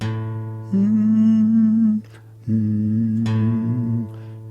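A single fretted note on the low sixth guitar string is plucked, rings and sustains, then is plucked again after a short pause, clear and close with no talking.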